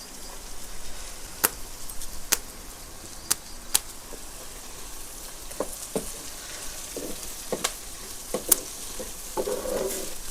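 Onion fries in oil in a clay pot at a village kitchen, a soft continuous sizzle punctuated by sharp clicks and stirring taps, with no talking.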